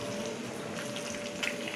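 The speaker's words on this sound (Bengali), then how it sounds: "যে দুটো ডিম নিয়েছিলাম, এবার ডিমগুলো এই তেলের ভিতরে দিয়ে ভেজে নেব।" Eggs fry in hot oil in a pan, a close, steady crackling sizzle with no talk.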